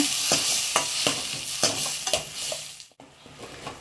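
Tomato paste fries with onions in a pan, a loud, dense sizzle broken by regular spoon scrapes roughly every half second, then dipping briefly quieter before the sizzle resumes.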